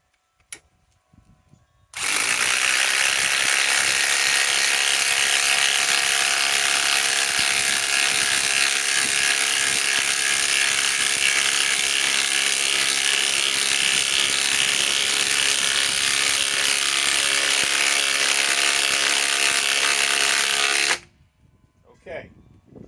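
A Ryobi/Ridgid cordless impact tool on an 8 amp EXP battery drives a 10-inch lag screw in one loud, continuous, close hammering whir lasting about nineteen seconds, with quiet handling noise before and after.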